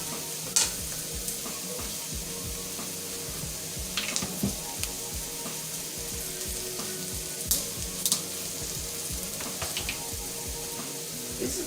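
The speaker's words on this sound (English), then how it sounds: "this time I'm going to add the white wine" Sizzling flour in a pan, with white wine poured in and stirred, giving a steady close frying hiss broken by frequent small scrapes and taps of the utensil.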